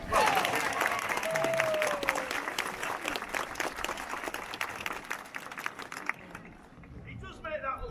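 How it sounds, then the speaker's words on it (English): A crowd applauds at a sea lion show at Flamingo Land, dense clapping that starts strong, carries on for several seconds, then thins out and fades, with a brief squeaky whistle-like sound near the start. "And if he gets this, a big round of applause."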